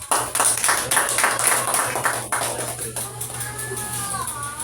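A church congregation claps for the Lord, a loud burst of dense clapping for about three seconds that thins out and fades, leaving faint thin tones over a low steady hum.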